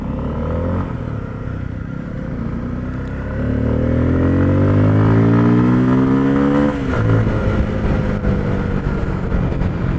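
A 2022 Bajaj Pulsar F250 motorcycle rides slowly in second gear through traffic, its engine loud and close with a steady throb that rises in pitch as it gathers speed, while other vehicles rumble around it.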